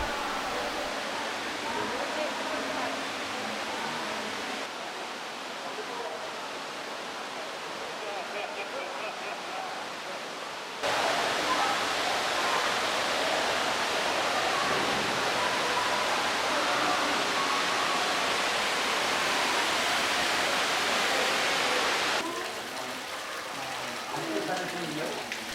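A large waterfall in a cloud forest roars as a constant broad rush of water, loud and steady, with a few abrupt shifts in level from cuts between positions.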